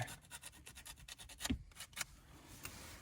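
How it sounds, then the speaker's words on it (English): Sandpaper worked around the cut end of metal tubing while fitting a boost gauge line on a Mazdaspeed Protege: quick, repeated scratchy rubbing strokes, close and quiet. "you're gonna have to take a little sandpaper, not too much now, but just go around a couple times"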